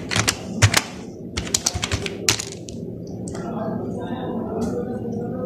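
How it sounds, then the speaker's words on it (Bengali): Quick bursts of clicking keystrokes on a computer keyboard as a Gmail password is typed, close and crisp in irregular clusters, then the typing stops and a low room hum remains. "এরপর আমি আমার জিমেইলের পাসওয়ার্ড দিচ্ছি এখানে"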